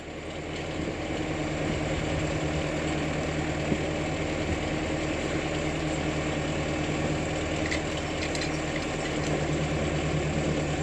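A John Deere 275 tractor engine runs at a steady idle nearby while skidding logs with a winch, a constant rumbling drone with faint rattling vibration and no voices.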